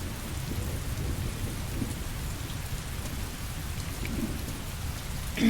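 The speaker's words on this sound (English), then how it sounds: "Heavy rain." Heavy rain with rolling thunder in the video game Heavy Rain, a continuous loud downpour over deep low rumbles that build and fade, with no voices present.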